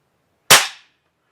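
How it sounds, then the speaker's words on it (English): A single sharp crack from a Crosman 362 .22 caliber air rifle, loud and close, with a quick decaying tail and no voices. "fire maybe 10 rounds to see what kind of pattern I have"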